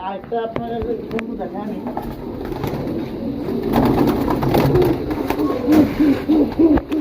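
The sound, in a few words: pigeons cooing in a pigeon loft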